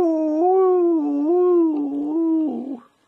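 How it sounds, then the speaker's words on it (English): A dog howls up close in one long wavering, mournful note that rises and dips, breaks into a shorter whimpering howl near the end, then stops. "But she'll speak, and I don't mean she'll bark, I mean she'll howl."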